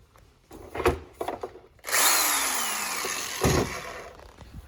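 A cordless power drill whirs steadily for a couple of seconds after some clattering handling, then a short burst of revving, close up.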